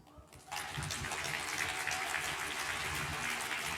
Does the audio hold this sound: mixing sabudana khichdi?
no